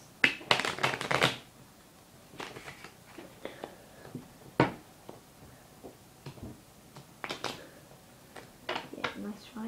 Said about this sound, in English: we'll shuffle the cards each